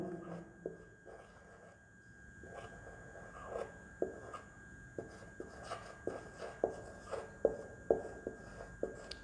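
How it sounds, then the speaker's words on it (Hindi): A teacher writes on a board during a biology lecture, producing a series of short chalk or marker taps and strokes that grow more regular and distinct toward the end, fairly close with no speech. "बाकी जो 10 हैं वो कौन कौन सा है, उसमें मैं उनको लिख देता हूँ"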